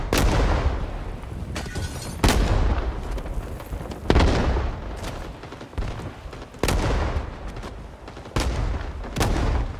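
Machine gun fire in the Vietnam War shooter Rising Storm 2: Vietnam: loud, dense bursts of gunfire and heavy booms striking roughly every two seconds over a constant roar of battle noise.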